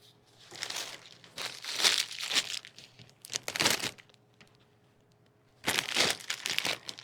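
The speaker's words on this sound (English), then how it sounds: "These green hydrangeas are packed in cellophane wrap still." Cellophane wrap crinkles around a bunch of green hydrangeas in bursts of crisp, close rustling and crackling, with quiet gaps between the handling.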